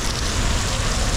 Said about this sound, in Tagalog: Umulan po ng sobra.